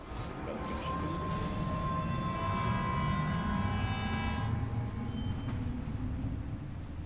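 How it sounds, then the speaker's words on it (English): Steady rumbling ride aboard a monorail in the video game Death Stranding 2, a continuous rail drone with a sustained horn-like whine layered above, loud and unbroken throughout. "Riding the monorail away."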